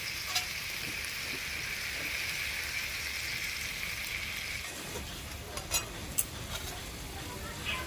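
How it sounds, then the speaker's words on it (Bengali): Coconut milk being poured into a pan of cauliflower korma, a soft steady sizzling hiss that settles, then a few small clinks of a utensil near the end. "এবারে এর মধ্যে দিয়ে দিব নারকেলের দুধটা"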